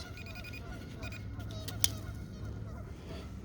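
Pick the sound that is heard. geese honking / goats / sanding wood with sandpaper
geese honking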